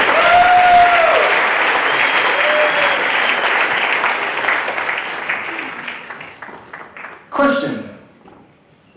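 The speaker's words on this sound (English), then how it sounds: "Give a round of applause," Audience applause at a mentalist show in a Las Vegas casino, loud and full at first, then thinning out and fading away, with a voice speaking over the clapping and a brief burst near the end.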